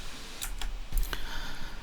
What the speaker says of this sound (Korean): 한 글자씩 쳐질 때는 타이핑하는 그런 소리가 들리면 좀 더 실감이 날 거예요